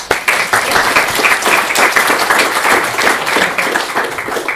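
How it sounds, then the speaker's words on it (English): A lecture audience gives a hearty round of applause to welcome a speaker, many hands clapping loudly and close for several seconds without pause. "I would like to give you the floor and to welcome you with a round of applause."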